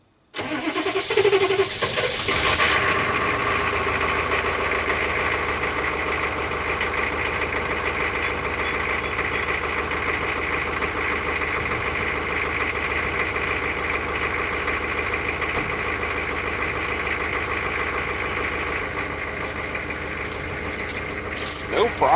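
A 6.5 turbo diesel engine cranks briefly, then catches and settles into a loud, steady idle that runs unbroken to the end.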